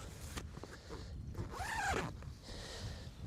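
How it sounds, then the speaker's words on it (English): Zipper on the door of a Samaya Inspire 2 backpacking tent, drawn in one smooth sweep with a rising rasp in the middle, close and fairly quiet against faint rustling. "Doors will zip off."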